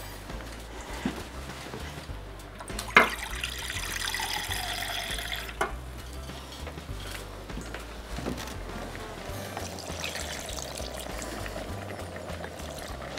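Water pours and splashes into a pot on a stovetop for boiling gizzard, a soft, uneven trickle with a sharp clank near the start and faint kitchen clatter around it.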